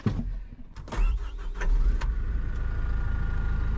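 A Hyundai HD130 dozer engine starting with a few clunks and clicks, then settling into a loud, steady low-pitched idle rumble up close, no talking.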